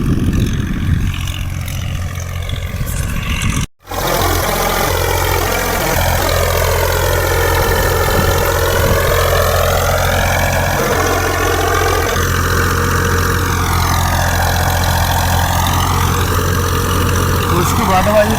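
A Massey 240 tractor runs with a 60-blade rotavator, its engine a loud, steady diesel drone with a rhythmic knock, briefly cut off near the start then continuing at close range under a voice.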